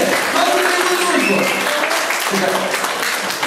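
Wedding guests clapping at a celebration party, loud continuous applause mixed with voices and chatter throughout.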